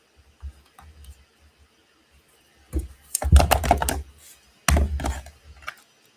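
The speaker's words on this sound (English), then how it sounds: "So a piece of tear and tape along the two flaps." A strip of tear-and-tape adhesive is handled and pressed along the flaps of a papercraft card. Short tapping and crinkling sounds come close up, and louder rustling bursts follow, with no voices.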